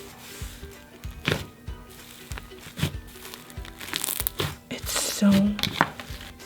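Iridescent glitter slime is squished and pressed, giving crinkly, crackling squelches in uneven bursts. Someone talks briefly over it.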